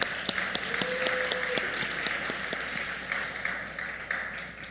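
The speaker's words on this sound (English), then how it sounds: "Another round of applause." Audience applause at a medical school class day ceremony, a steady wash of clapping across the hall with a faint voice or tone briefly over it, sustained throughout at moderate level.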